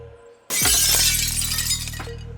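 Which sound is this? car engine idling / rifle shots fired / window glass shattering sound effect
window glass shattering sound effect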